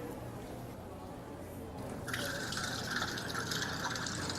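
Water begins gushing onto the turbine blades of a small science demonstration rig after about two seconds, a steady splashing rush that stays loud and even to the end, following a quieter hum.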